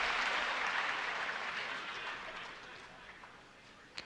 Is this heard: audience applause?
yes